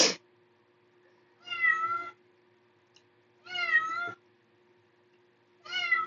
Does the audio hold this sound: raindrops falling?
no